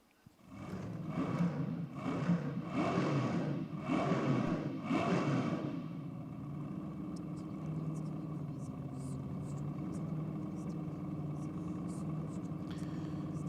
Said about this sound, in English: Car fired back up.